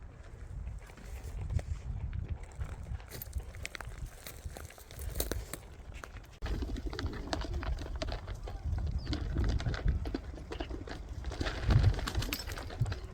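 Pigeons peck and shuffle about while feeding, with scattered soft coos, wing flutters and crinkling over a busy outdoor background with voices.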